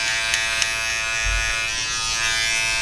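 An electric hair trimmer runs through a taper fade haircut with a constant, close, loud buzz and a couple of brief clicks as it touches the hair. No voices are heard.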